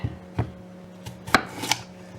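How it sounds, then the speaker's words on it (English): A few sharp knife chops through skin-on potatoes on a cutting board, irregularly spaced, close by and distinct in an otherwise quiet room. "chop up the spuds too, skins and all"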